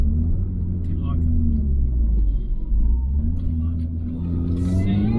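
Mini Cooper S with a supercharger and 15% pulley upgrade, heard from inside as a loud low engine rumble that rises and falls through revs, with brief talking over it.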